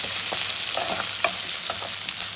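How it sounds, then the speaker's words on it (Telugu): Onions and chana dal fry in oil in a pan for tomato bath upma, giving a steady close hiss with a few soft stirring taps and no talk. "ఈ విధంగానే మనకు ఆనియన్స్తో పాటు శనగపప్పు వేగుతుంది"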